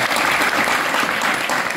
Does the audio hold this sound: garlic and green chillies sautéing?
no